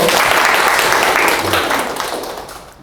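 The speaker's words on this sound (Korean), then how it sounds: "자, 박수 한번 주십시오." Applause from an audience at a leadership training session, dense and loud from the start, then tapering off toward the end.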